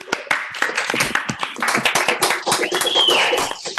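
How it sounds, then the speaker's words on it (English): Scattered hand claps from a few participants unmuted on a WebEx call during a virtual graduation, uneven and overlapping with short gaps, and a voice or two cheering faintly amid the clapping. "we can all give her a round of WebEx applause here"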